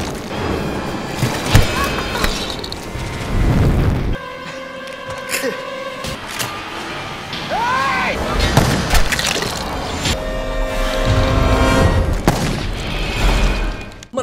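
Firecrackers burst and crackle in loud, dense volleys, with a brief whistling rise in the middle and a roaring, hissing blaze between bursts.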